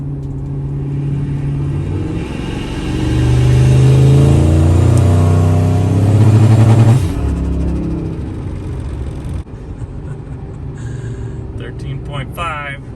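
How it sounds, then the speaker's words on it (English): Turbocharged Ford Triton 5.4 V8 truck engine revving under boost, a loud droning rumble with a vibrating buzz from the wastegate side that swells and holds for several seconds, then drops back to a lower idle rumble. "the really loud vibrating noise coming from over on the wastegate side"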